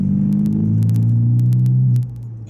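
A Renault Megane R26 F1 engine droning loud and close as the driver downshifts to third into a corner, the pitch dipping before the engine note drops off.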